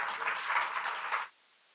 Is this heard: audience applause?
yes